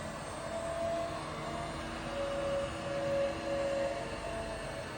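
A 6HP screw air compressor runs steadily as it builds pressure, giving a loud, continuous mechanical drone with a faint steady whine that swells slightly partway through, and no voices.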